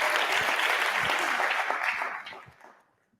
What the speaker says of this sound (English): Round of applause for Varun.